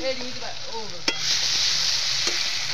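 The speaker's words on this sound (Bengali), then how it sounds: "পেঁয়াজটা আমার ভাজা ভাজা হয়ে গেছে। এবার আমি এখানে আদা রসুন আর টমেটো বাটাটা দিয়ে দিলাম।" Ginger, garlic and tomato paste dropped onto fried onion in a hot pan: a bright, loud hiss swells and holds steady, with a couple of sharp spoon knocks, and a faint voice is heard at the start.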